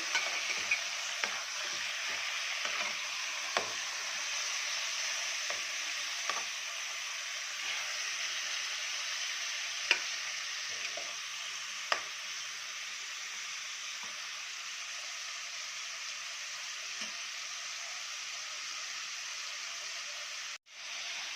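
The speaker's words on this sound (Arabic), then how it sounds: "كده احنا شوحنا اللحمه اهي تمام" Chunks of meat seasoned with black pepper sizzle steadily in a pot, with scattered scraping clicks as they are stirred, close and continuous with no talking.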